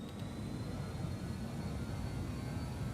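BAe 146-200 jet engines spooling at full throttle on a simulated departure from Cajamarca, Peru in Microsoft Flight Simulator 2020: a steady, dense low roar with a faint high whine, continuous and even throughout.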